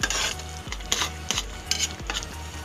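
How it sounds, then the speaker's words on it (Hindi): Maggi noodles mixed with taste maker seasoning are stirred in a pan over a soft sizzle, the utensil scraping the pan in a steady rhythm of about four strokes, close and alone. "तो इसको अच्छे से मिक्स कर दें"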